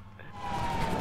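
Police car siren in GTA 5 Online, a wailing tone rising steadily over one second amid game noise.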